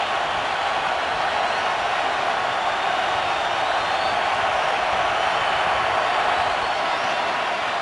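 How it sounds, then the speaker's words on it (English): Steady roar of a stadium crowd at an NFL game, Panthers at Texans in 2011, a dense continuous wash of voices and cheering that holds level and loud for the whole stretch. "Listen to the crowd"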